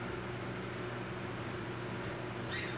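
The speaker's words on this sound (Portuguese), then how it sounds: "é o ventilador que eu liguei virado pra cá." A household electric fan switched on and aimed toward the microphone in a home kitchen gives a steady, even broadband whoosh with a low hum, constant and fairly near for the whole stretch with no talk.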